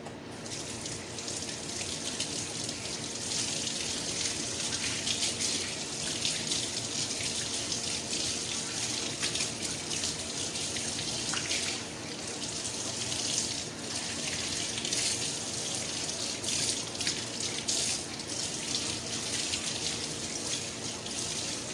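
Steady running tap water pours continuously into a sink as raw chicken is washed, a close, even rush with occasional splashing shifts, no voices.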